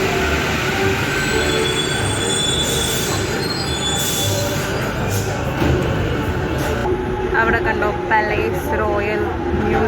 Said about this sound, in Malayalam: ഒരു ട്രെയിൻ വന്നു